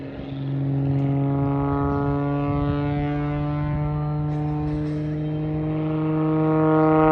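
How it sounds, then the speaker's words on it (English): An aerobatic airplane's Hartzell propeller gives a steady drone with a strong buzzing tone at Oshkosh, holding close and loud while slowly rising in intensity toward the end as RPM climbs. "You hear the Hartzell propeller gaining RPM"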